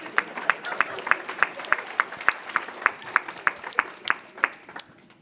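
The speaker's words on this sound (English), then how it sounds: "Let's give her a round of applause." An office audience claps for a volunteer at a workplace happiness talk, a moderately close round of applause with distinct, regular claps that thin out and fade toward the end.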